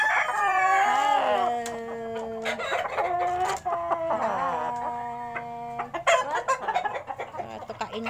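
Rooftop coop chickens on a third floor, with drawn-out, rising rooster crows that return, mixed with sharp, close clucks throughout.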